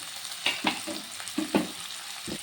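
Chopped tomatoes, three of them, sautéing in a pan of oil, giving soft sizzling with several distinct stirring scrapes and clatters spaced across the moment, close up with no talking.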